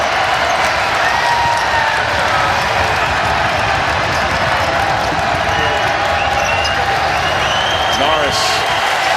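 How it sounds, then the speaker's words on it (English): Crowd noise at a VCU versus Loyola Chicago basketball game in 2024 during a second-half home run, with a steady roar of fans, squeaks and bounces on the court, and a commentator talking throughout. "this crowd is into it"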